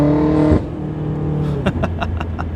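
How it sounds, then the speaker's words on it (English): A BMW M5 twin-turbo V8 roars up close, then drops off sharply into a rumbling idle with a few crackling pops. "But these engines sound so good. Twin turbo V8"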